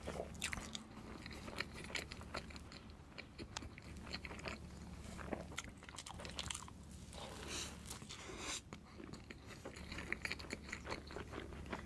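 Cake eaten in big bites: close, continuous chewing and biting with crunchy clicks and mouth noises, loud and steady throughout, with no talking.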